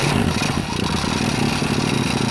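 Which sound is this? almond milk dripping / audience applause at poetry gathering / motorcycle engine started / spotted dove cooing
motorcycle engine started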